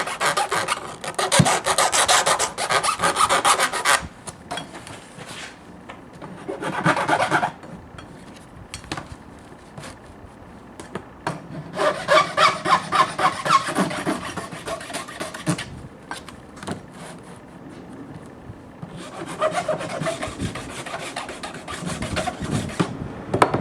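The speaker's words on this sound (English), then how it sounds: "Let me just see if I can't Get a little filing in here." A file rasps along the rough edge of Formica laminate in bursts of repeated strokes separated by short pauses. The sound is loud and close, with no talking over it.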